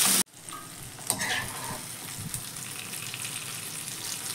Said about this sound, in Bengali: ঢেঁড়সটা আমার প্রায় ভাজা হয়ে গেছে।